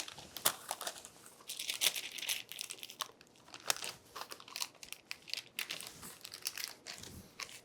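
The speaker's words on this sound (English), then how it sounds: "And then just pull your parchment paper back." Parchment paper crinkles and crackles in irregular bursts as it is pulled back while folding the edges of a carrot and feta galette in a home kitchen, close and fairly loud with no talking.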